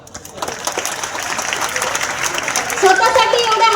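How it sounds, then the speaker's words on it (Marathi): A crowd of job seekers at a government employment fair claps for themselves, the applause starting thin and swelling into a dense, steady roar of many hands that grows louder toward the end. "सगळ्यांना टाळ्या वाजवायच्या आहेत स्वतःसाठी."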